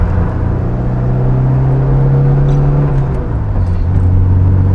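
Engine of a classic Alpine A110 1300 FASA berlinetta, a light rally car, holding a loud, steady drone with a slight drop in pitch partway through, close and continuous with no talk.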